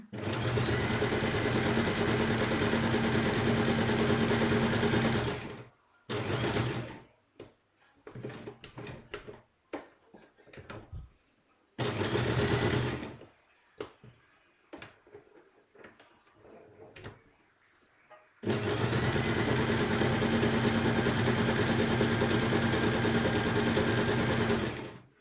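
A sewing machine stitches buttonholes in long, fast, loud whirring bursts, with quiet gaps of small clicks and handling sounds between runs.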